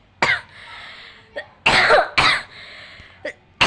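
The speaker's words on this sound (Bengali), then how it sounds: "আমার তো অনেক কাশি আসতেছে" A person coughs several times while cooking amid stove smoke, separated harsh bursts of varying length, close and fairly loud, with a quiet background between them.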